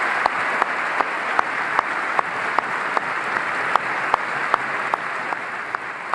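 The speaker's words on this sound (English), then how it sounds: "Everybody clapping for you." Distant, even applause from the chamber audience at the 2018 State of the Union address, a soft continuous patter of many hands heard faintly and alone.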